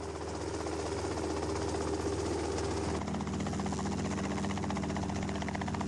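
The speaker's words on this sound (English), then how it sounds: "this Bell 47 received the first American type certificate for a commercial" A Bell 47 helicopter in flight, shown in rare historic footage: a steady, loud rotor and engine drone with a pulsing beat, continuous and unbroken across the whole stretch with no talk.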